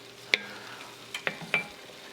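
Beef searing in a pan on medium-high heat for beef stroganoff: a soft, steady sizzle with a few sharp clicks and scrapes of a utensil against the pan, close by and with no talking.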